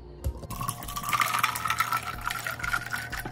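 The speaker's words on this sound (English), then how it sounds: "pour the water." Water is poured into a glass with ice, giving a short clink followed by a bubbling, gurgling fill that runs for a few seconds at moderate, close volume.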